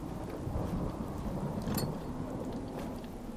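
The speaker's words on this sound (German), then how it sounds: "Das finde ich immer so geil, wenn das in der Hütte am Regnen ist." Rain patters steadily on a hut while low thunder rumbles beneath it, a dense, even wash of sound with no voices.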